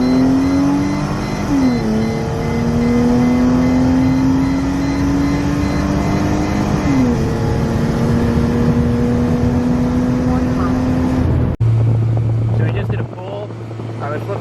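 A Mercedes SLK32 AMG with a supercharged engine accelerates hard from a roll, its loud engine note climbing steadily with two distinct gear shifts before easing off near the end.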